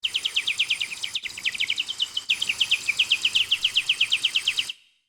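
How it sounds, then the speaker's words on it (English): A warbler whistle: a rapid, high warbling trill in quick repeating pulses, bright and fairly loud, broken by two brief gaps before stopping abruptly. "And then the warbler whistle."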